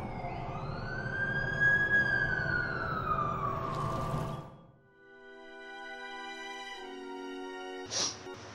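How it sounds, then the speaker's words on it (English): An ambulance siren wails with rising and falling pitch in The Amazing Spider-Man 2 video game, loud at first, then it cuts off and gives way to a lower steady tone with a brief burst near the end. "That's the ambulance I called."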